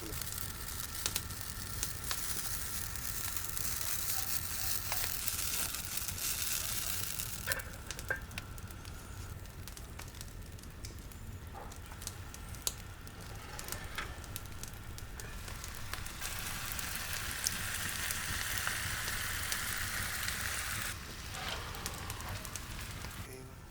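Potatoes cooking in a pot of boiling salted water outdoors, giving a steady, quiet bubbling and hiss throughout with no talking.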